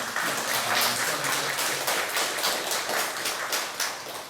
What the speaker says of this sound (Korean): 우리 한번 다시 한번 우리 집사님께 감사하다고 박수 한번